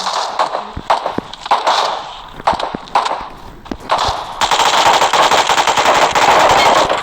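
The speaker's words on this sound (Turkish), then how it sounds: "Oğlum bot vuruyor." Rapid automatic gunfire from a bot in the PUBG Mobile video game, loud bursts and single shots early, then a sustained dense volley of shots in the second half, with no talking.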